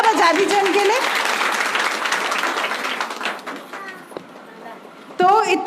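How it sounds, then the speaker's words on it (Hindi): An audience claps loudly for a singer at an event, a dense burst of applause that tapers gradually, with voices talking over the start and a speaker resuming at the end. "एक बार जोर से तालियां बजा दीजिए उनके लिए"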